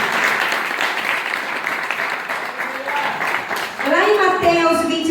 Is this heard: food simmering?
no